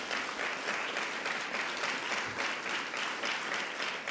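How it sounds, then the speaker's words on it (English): An audience at a governor's event on Long Island, New York gives a sustained round of applause, steady dense clapping throughout with no pause. "Can we give her another round of applause?"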